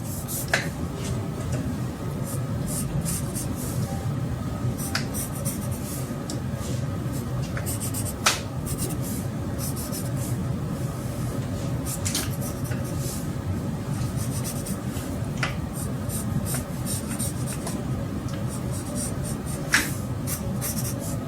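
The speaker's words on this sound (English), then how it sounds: "I'm going to draw you another box." A marker or pen drawing a box on paper during a geometry lesson, giving a steady scratchy stroking texture with a few sharp tapping clicks, close and continuous with no talking.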